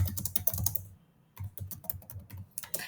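Quick bursts of keystrokes on a computer keyboard as a line of Python code is typed, a fast clattering run, a brief pause, then another dense flurry of key presses, close and clear with no talking.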